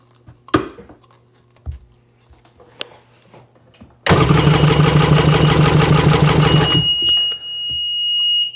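A 2002 Sea-Doo GTX DI engine cranking with the throttle open, heard as a loud, rapid, even chugging from the starter for about three seconds after a few scattered clicks and knocks, then cutting off into a fading whine.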